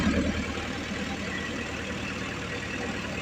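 A Massey Ferguson 385 tractor engine runs steadily at a low, even drone, close and continuous for the whole stretch with no talk over it.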